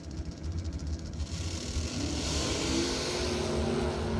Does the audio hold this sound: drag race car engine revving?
yes